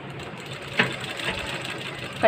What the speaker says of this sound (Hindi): इसको मशीन पर स्टिच कर दीजिए।